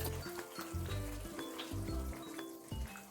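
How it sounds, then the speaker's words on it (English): Schezwan sauce with finely chopped celery simmering in a pan over a low flame, a soft continuous sizzle and bubbling with occasional light clinks, fairly quiet and close, no talking. "Let it simmer for another 5 minutes on low flame"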